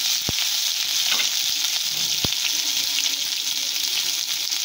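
Potatoes and spices fry loudly in a pan with a constant sizzle, interrupted by two sharp taps of a utensil.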